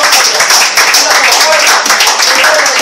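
Loud, dense applause from a church congregation at an evangelistic service, sustained for a few seconds with some voices mixed into the clapping.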